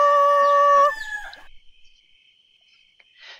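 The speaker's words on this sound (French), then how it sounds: "Le coq, alerté par ce vacarme, cria du haut de son perchoir « Cocorico !»" A rooster crows from a perch, one loud, clear, drawn-out call that breaks off into a trailing tail, followed by near silence.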